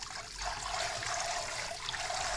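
Tap water runs steadily for a quick rinse of a few green onions in a home kitchen, a continuous close splashing hiss with no talking.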